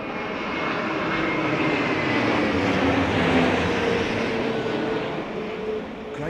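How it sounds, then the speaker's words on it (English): An Aer Lingus Airbus A320neo lands at London Heathrow during Storm Darragh's high winds, its broad engine roar steady and loud throughout, swelling slightly midway and easing off near the end with no voices. "Aer Lingus A320neo. The old Irish know a thing or two about landing in the winds"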